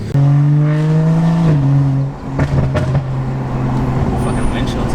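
A BMW with an N55 engine and a newly installed intercooler pulls away, its engine note a loud steady hum that dips as it shifts gears, then carries on as a rougher road drone, close up.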